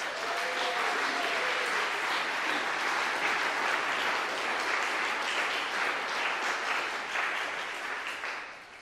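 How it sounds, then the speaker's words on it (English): Sustained applause from a church congregation honoring the seniors after their sermons, a dense steady wash of many hands clapping throughout, fading slightly at the end. "can we give them a round of applause for those awesome sermons?"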